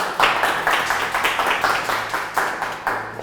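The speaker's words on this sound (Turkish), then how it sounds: "Alkışlarla." A small group clapping in rhythm to welcome a guest onto a home cooking set, steady rapid claps close by for a few seconds.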